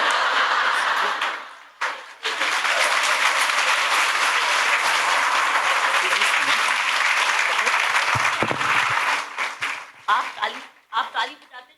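Teachers at an interactive session applaud in a sustained, dense burst of clapping that runs for several seconds, thins briefly, then swells again before breaking into scattered claps, with voices mixed in.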